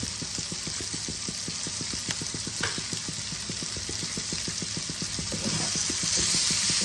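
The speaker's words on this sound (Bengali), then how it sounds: "আঁচ কমিয়ে কমিয়ে আমি ভাজবো" Ginger garlic paste fries in a pan over lowered heat, giving a steady sizzle broken by a fast, regular ticking of stirring.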